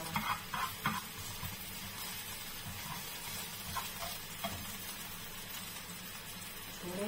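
Vegetables fry in a pan, with mushrooms added first, producing a soft, continuous sizzle at low volume, with a few light clinks of utensils early on.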